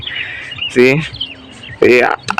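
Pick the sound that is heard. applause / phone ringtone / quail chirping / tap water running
quail chirping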